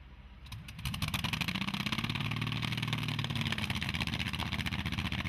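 A pulling tractor's engine fires up after a battery-pack start, then settles into a loud, close, steady rhythmic idle with a throbbing low chug that continues unbroken, with no one talking.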